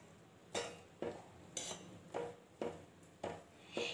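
A spoon knocks and scrapes around a pot of Bengali payesh rice pudding, sounding in seven evenly spaced clinks about half a second apart, close and fairly quiet.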